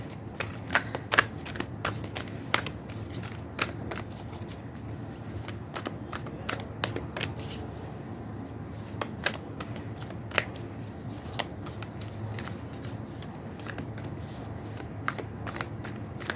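Tarot cards shuffled by hand for about sixteen seconds: a steady, soft riffling with sharp ticks and snaps scattered throughout, close and fairly quiet, with no talking.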